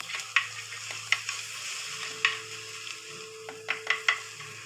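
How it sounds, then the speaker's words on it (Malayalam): Sliced onions fry with ginger and garlic while squid is being cooked, a faint steady sizzle broken by light, scattered clinks of a stirring utensil against the pan. "ഇനി നമുക്കിതിലേക്ക് സ്ലൈസ് ചെയ്ത് വെച്ചിരിക്കുന്ന സവാള ഇട്ട് കൊടുക്കാം"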